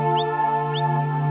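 Two short, rising high whistles repeat about half a second apart over a steady hum, the advertisement call of a whistling wrinkled frog.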